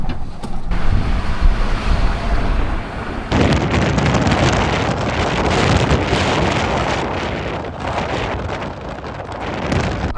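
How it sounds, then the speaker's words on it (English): Strong, steady wind of a dust storm in El Paso, Texas, roars and buffets the microphone, a dense broadband rush that swells slightly and never lets up, with no voices. "it is windy and dusty"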